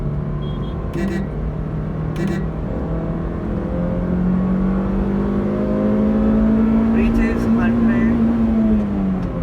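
A 2012 Honda City i-VTEC engine pulls hard under acceleration, a steady rising drone climbing in pitch over several seconds, with talk over it and brief clicks near the start.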